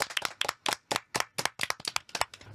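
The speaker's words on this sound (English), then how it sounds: "Let's give ourselves a round of applause." A small group of podcast hosts clap for themselves, a brief run of about a dozen crisp, separate hand claps, close and alone with no talking.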